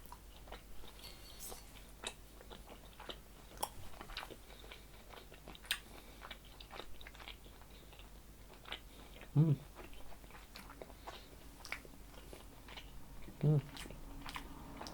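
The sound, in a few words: chewing a salami snack with seaweed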